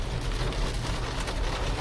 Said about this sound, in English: y'all hear the rain, how hard it's coming down now